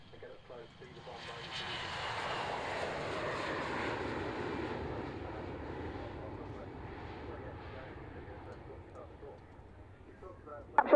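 Aircraft engines roar at the Waddington Airshow 2013, a loud sustained drone swelling in the first few seconds and slowly fading, with distant voices faintly under it.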